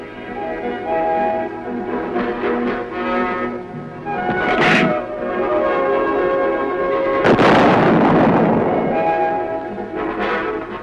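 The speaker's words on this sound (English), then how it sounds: "The charge is added and the weapon is ready to fire." A 175mm self-propelled gun fires at the Aberdeen test grounds: a short blast, then a louder, longer roaring boom, over a sustained droning tonal backdrop.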